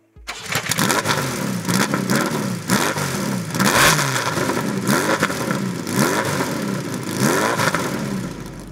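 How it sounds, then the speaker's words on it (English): A Ferrari 308 GTB Group B rally car engine fires up and revs repeatedly, loud and close, with rising and falling sweeps of throttle blips over a steady rough idle, no talk. "this Ferrari 308 is absolutely worth hearing"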